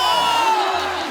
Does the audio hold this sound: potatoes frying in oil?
no